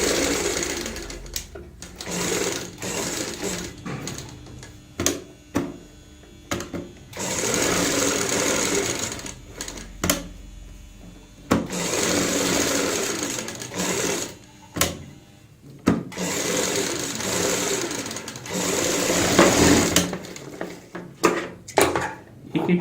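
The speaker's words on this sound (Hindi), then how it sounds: "बुकरम के साथ साथ सिलाई लगा लेंगे।" A sewing machine runs in bursts, stitching fabric along a strip of buckram, with short pauses and handling clicks between the close, rattling runs.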